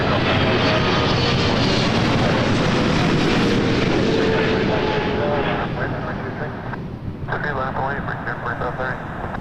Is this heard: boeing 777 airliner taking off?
yes